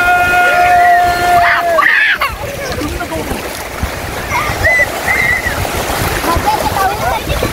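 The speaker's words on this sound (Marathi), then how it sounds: "एवढं पाणी उडो पाणी उडो असं पाणी उडो" Children splash and kick sea water at Kelshi beach on a family outing, a steady wash of splashing and surf close by with excited voices talking and shouting over it.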